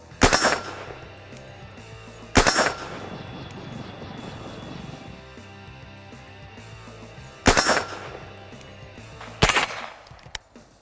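Gunshots from a 9mm AR rifle fitted with a red dot, fired offhand at 100 yards outdoors: four sharp, loud reports spaced several seconds apart, each with a short echoing tail.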